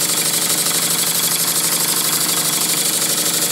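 A roughly ninety-year-old Stuart model steam engine drives a dynamo, giving a steady, fast, evenly pulsing mechanical chuff and whirr at close range, with no talking.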